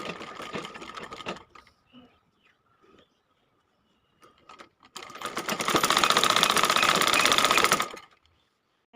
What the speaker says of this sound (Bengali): তো এখানে আমি মাথার মুকুটটা সেলাই করে নিচ্ছি।